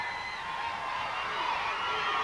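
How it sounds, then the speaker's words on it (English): A wrestling arena crowd cheers and roars in a steady, dense wash of voices, moderately loud and sustained throughout without a break. "And listen to this crowd."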